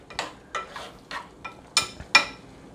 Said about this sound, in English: Let me stir that up.